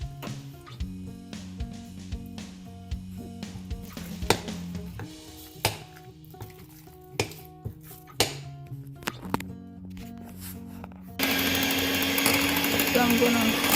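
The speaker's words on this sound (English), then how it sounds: "it's in that stage that I need to use a mixer now" An electric mixer beats queen cake batter, with scattered clicks and knocks from the bowl before the motor's steady, loud whir takes over near the end. The sound is close.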